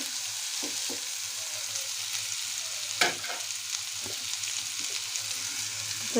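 Finely chopped potatoes fry in a pan with a steady hiss, while a spatula stirs them, adding scattered clinks and scrapes, one sharper knock in the middle.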